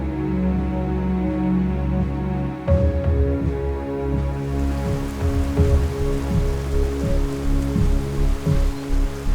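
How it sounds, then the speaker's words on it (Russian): Heavy rain falling steadily outdoors on a morning during a hunting trip in Kolyma, a constant broadband wash with scattered nearer drops and patters on surfaces, continuous and fairly loud with no voices. "Все утро следующего дня шел проливной дождь."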